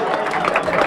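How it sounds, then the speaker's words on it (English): Banquet audience at a football alumni foundation honorees dinner giving a round of applause, a dense, steady wash of clapping from a full room, loud and close for under a second. "Give him a round of applause."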